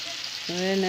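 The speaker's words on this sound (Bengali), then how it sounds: "কড়াইতে পেঁয়াজ কুচিগুলো তেল গরম হয়ে গেলে পরে" Chopped onions frying in hot oil in a wok hiss steadily, then a bright sustained tone rises over it partway through, loud and close.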